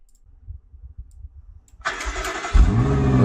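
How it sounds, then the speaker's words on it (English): A BMW X6 M with its stock exhaust cranks and fires up, a quiet low rumble giving way to a sudden loud roar that swells into a deeper, heavier rev, close and with no talking. "I want to hear X6M stock exhaust."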